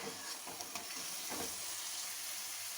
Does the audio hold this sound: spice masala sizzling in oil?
yes